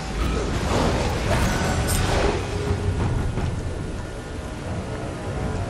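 Rain and thunder from a storm in the Rift online game, a steady dense hiss of rainfall with a low rumbling roll of thunder through it, continuous and without voices.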